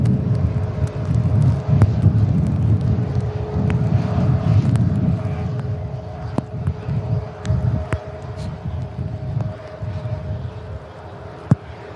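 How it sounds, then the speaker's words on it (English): A TUI Boeing 737 MAX airliner taxis past at Manchester Airport on a stormy, windy day, its low engine rumble steady and fairly near, then easing off, with gusts of wind buffeting the microphone. "Further TUI 737 MAX on the taxi past."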